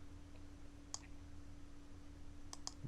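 A computer mouse clicks quietly while being used in InDesign: a single click, then a quick pair of clicks near the end, faint over a low steady hum.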